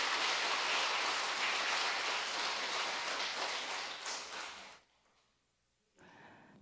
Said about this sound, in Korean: 박사님께 다시 한번 힘찬 박수